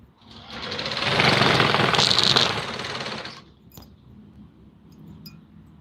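A sewing machine stitches black fabric for a Patiala salwar in one loud, fast whirring run of about two seconds, then stops, followed by faint clicks and a quiet room.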